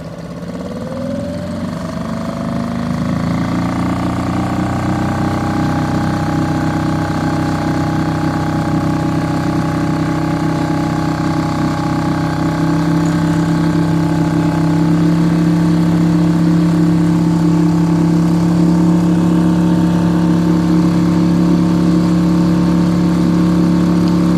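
Suzuki 2.5hp outboard motor on an Intex Mariner 4 inflatable boat, idling steadily and then throttled up into a louder, higher, sustained drone that holds close and continuous with no talk.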